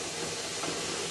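Hot tempering is poured into a Kasaragod-style roasted-coconut beef curry, giving a loud, steady, close sizzling hiss with no talking.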